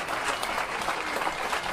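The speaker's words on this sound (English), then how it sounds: "Zander was applauded by strangers at the airport" Strangers at an airport applaud a soldier returning from Afghanistan, a brief, steady wash of clapping from a nearby crowd.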